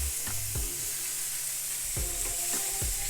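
Sirloin steak searing in a hot pan just after flipping, a steady loud sizzle throughout with a few sharp knocks of a utensil against the pan.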